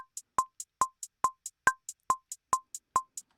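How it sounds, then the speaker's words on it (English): Crisp electronic hi-hat ticks repeating in a steady fast pattern, alternating louder and softer hits, with no other instruments. "Now let's move on to the hi-hats."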